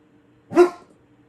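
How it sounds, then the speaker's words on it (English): A single short bark from a dog on a farm, close and fairly loud against quiet background hum. "What are you barking at?"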